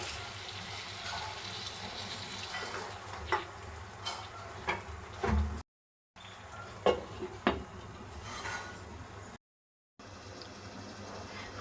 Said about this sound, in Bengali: এবার আমি একটু বেশি করে জল দিচ্ছি